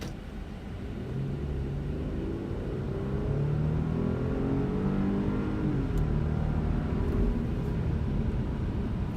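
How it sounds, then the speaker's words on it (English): A 2015 Audi A7 pulls away and accelerates on a straight road, heard from inside as a low engine rumble that rises in pitch through the gears, steady and moderately loud with no talking. "I'll do a pickup and acceleration in a second"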